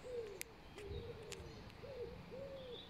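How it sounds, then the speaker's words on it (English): Soft, repeated hooting calls like an owl or dove come from birds outdoors on a nature walk, several drawn-out coos in a steady rhythm over quiet background noise, with no talking. "Look at the birds."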